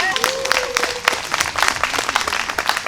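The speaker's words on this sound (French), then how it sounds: "Est-ce que nous pouvons applaudir pour Sylvie?" Applause from a church audience for Sylvie, scattered claps over a steady wash, with a brief tonal whistle or squeal near the start.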